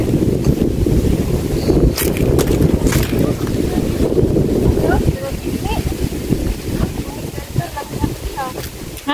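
Strong, steady wind roars across the microphone throughout, with brief voices and a motor faintly audible underneath.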